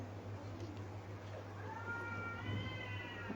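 A cat meows during an Islamic study session, a single drawn-out meow in the latter half, fairly faint and set against a steady room hum.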